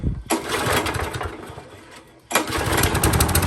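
Lawn mower fitted with a swapped-in engine, running loud and close with a buzzy drone, briefly dropping off and then revving back up to full speed.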